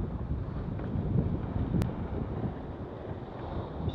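Steady wind rushes and buffets the microphone aboard a sailboat moving at nearly seven knots in September, a continuous low roar with one brief click partway through.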